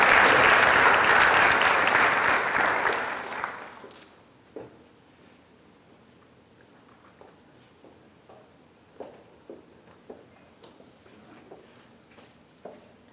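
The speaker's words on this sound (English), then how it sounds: "Please give him a round of applause." An audience at a high school military signing ceremony applauds a recruit, a loud full round of clapping that fades out after a few seconds, followed by scattered footsteps and light knocks in a quiet room.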